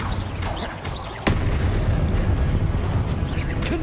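In Hogwarts Legacy, a Confringo spell hits with a sudden deep boom, followed by a sustained rumbling roar, set against faint whooshing game effects, with no voices.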